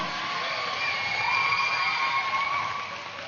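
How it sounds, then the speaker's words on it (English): A large crowd cheers and claps steadily, a broad wash of applause and shouting that fades slightly at the end. "A big round of applause for each and every one of you here."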